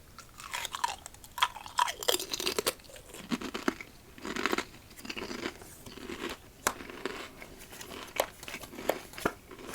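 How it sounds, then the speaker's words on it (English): Lay's Southern Heat Barbecue potato chips are crunched close to the microphone in repeated crisp bites and chews, irregular bursts of crackle with brief quiet gaps, mixed with faint crinkling. "Let's begin our night with the crunch."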